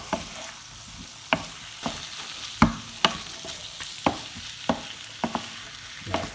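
Aloo gobi, a potato and cauliflower curry, stirred in a pan with a spoon, giving about a dozen sharp scraping knocks spaced irregularly over a soft steady sizzle, close and clear with no talking.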